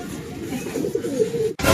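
Domestic pigeons coo close by in a low, throaty, rolling murmur that continues steadily, ending in a brief gap and a burst of noise.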